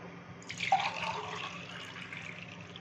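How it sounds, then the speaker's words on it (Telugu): Water is poured into a pot already holding onions, salt, turmeric, dal masala and garlic, a quiet short splash that trails off into a soft, fading trickle. "3 గ్లాసెస్ ఆఫ్ వాటర్ అయితే వేసాను"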